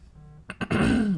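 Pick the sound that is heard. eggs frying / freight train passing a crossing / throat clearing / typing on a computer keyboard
throat clearing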